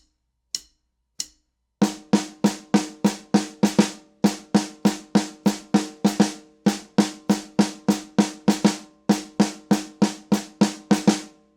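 A drum rhythm repeats: three eighth-note hits followed by two quick sixteenth-note hits, each punchy strike decaying fast, looping steadily and cleanly after two sparse opening hits, with no voices.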